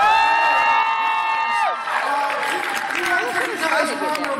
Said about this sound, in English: Thank you guys for your applause.